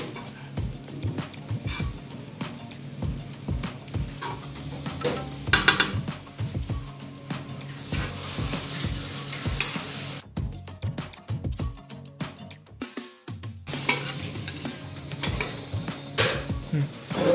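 Special fried rice with chicken and prawns is stir-fried in a pan. A spatula clanks and scrapes against the metal in a brisk, uneven rhythm, with a short quieter break partway through.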